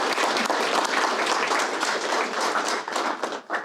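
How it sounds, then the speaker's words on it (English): Audience applause fills a graduation celebration hall, a dense, steady wash of many hands clapping close and loud before tapering slightly at the end. "but we applaud her"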